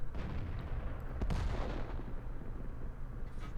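Birch Gun self-propelled artillery firing in World of Tanks: one deep, booming shot that rolls and fades across a few seconds, fairly loud over a low rumbling background, with no voices.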